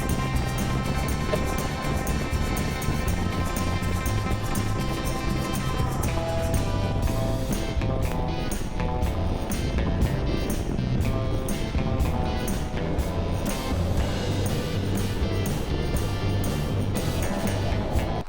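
A small mini car's engine drones and gurgles steadily while driving up a mountain canyon on a hot day, with a constant low rumble and wind buffeting throughout and no talking.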